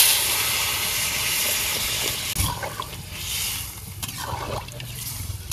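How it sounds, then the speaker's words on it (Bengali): Water splashed into a pan of frying taro on a village stove gives a loud rushing hiss that gradually eases into softer bubbling and steam, with a few clinks of the pan. "কচু কষাই হয়ে গেছে, আমি জলের লেগে পানি দিয়ে দিব। পানি দিয়ে দিলাম।"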